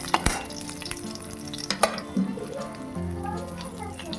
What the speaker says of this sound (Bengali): এবার ডালটা ঢেলে দিলাম।